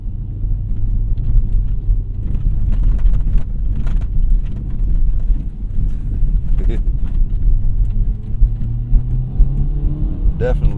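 A Honda Integra Type S fitted with an FL5 Civic Type R damper module rolls over a rough, bumpy road, a loud continuous low rumble with scattered knocks and thumps from the suspension, heard from inside the cabin.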